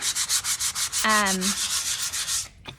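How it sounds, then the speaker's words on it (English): Rapid back-and-forth rubbing of sandpaper lightly sanding a polyurethane-finished wooden bath tray in a quick, regular rhythm, close by, with a brief squeaky tone partway through before stopping. "what we're gonna do is just give it a light sanding"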